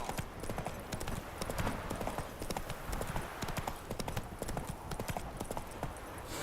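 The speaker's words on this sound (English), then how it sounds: "Run, Roach" Roach, Geralt's horse in the video game The Witcher 3, gallops with rapid, steady hoofbeats drumming continuously at close range, with faint game ambience around it.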